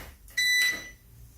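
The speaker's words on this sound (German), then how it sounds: "Piept er kurz und startet hoch." A single short electronic beep rings out clearly at close range as a beer brewing machine starts up, followed by a faint hum.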